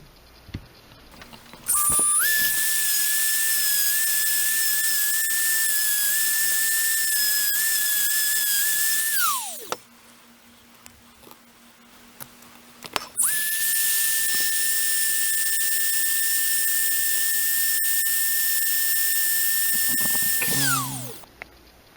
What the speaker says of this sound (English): what I found the easiest method is using the Dremel and also side cutters